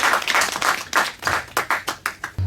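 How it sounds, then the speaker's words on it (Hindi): A studio audience at a quiz show grand finale applauds a contestant, a burst of clapping that thins into a few separate, sharper claps before stopping. "एक बार जोरदार ताली हो जाए नीलांश के लिए।"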